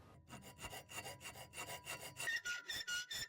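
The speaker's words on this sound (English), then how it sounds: "I'll have to cut out a little notch for that." Rapid back-and-forth sawing through wood, steady strokes close by, with a brief higher rasping pitch toward the end.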